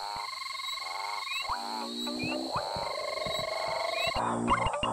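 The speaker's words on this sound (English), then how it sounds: "The frogs she'd been listening to earlier seemed to be getting louder and more intense." Waxy monkey frogs croak continuously in a dense chorus, with layered repeating calls and tonal chirps that grow busier and louder toward the end, with no talking.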